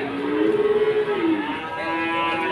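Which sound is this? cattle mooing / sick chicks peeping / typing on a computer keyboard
cattle mooing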